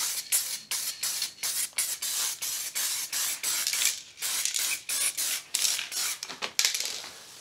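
Spray paint hisses in short, rhythmic bursts as a coat goes onto a C4 Corvette spare tire rim, a steady series of loud, close sprays with brief gaps between them.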